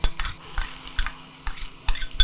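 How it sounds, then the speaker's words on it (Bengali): Chopped onion fries in hot oil while being stirred, giving a close sizzle with rhythmic scraping and clinking of a utensil against the pan every half second or so. "আচ্ছা, তেলটা কিন্তু গরম হয়ে গেছে, এবারে প্রথমেই চপড করা পেঁয়াজটা দিয়ে দিই।"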